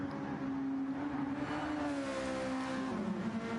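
A racing car in a video game drives across the finish line, its steady engine drone holding a constant whining pitch throughout with no voices over it.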